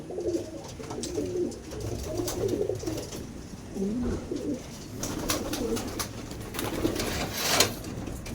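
Racing pigeons coo repeatedly in low, throaty rolling calls, several birds close by, with light rustling and taps between the calls.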